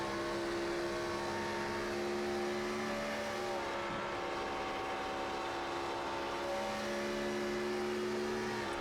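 A race car engine in the iRacing sim at Auto Club drones steadily as the driver lifts off the gas, a sustained mid-level engine and road roar without sharp revs, unbroken and with no talking.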